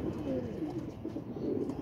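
Female flying pigeon cooing softly, a low murmuring coo under a steady background hum, close and fairly quiet.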